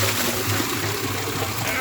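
Spring water pouring steadily into a bucket to measure its flow, a dense continuous splashing rush that stays loud and close throughout the short stretch.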